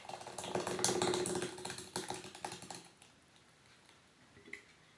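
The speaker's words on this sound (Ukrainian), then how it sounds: "До цієї суміші додали півстакана кефіру і ретельно перемішуємо." A spatula stirs a batter mixture with half a glass of kefir added, giving quiet clicking, scraping strokes in quick rhythm for about three seconds, then fading to near silence with a faint tap.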